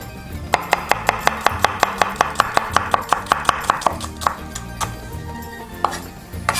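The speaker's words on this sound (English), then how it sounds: "And of course the onion. We don't have to finely chop them." A red onion chopped roughly with a knife on a cutting board, giving a fast, steady run of about twenty crisp, close knocks that slows to a few scattered taps near the end, with no talk.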